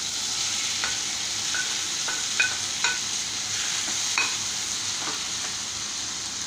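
Tomatoes going into a pan of browned onions for shahi paneer masala, a steady sizzling hiss with a few light clinks and scrapes from a stirring spoon, close and moderately loud, no talking.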